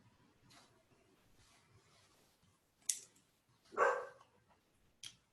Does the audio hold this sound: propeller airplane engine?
no